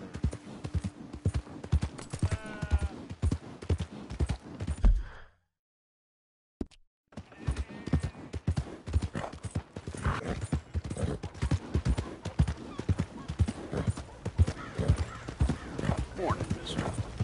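Horse hooves clip-clop steadily while riding in a PS4 video game, with an occasional whinny. Game voices talk over the hoofbeats, and there is a brief silent gap partway through.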